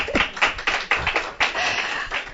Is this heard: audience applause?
yes